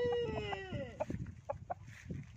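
Coimbatore-bred fighting roosters weighing around 3.5 kg cluck and squawk close by, a drawn-out call at the start followed by short, choppy clucks.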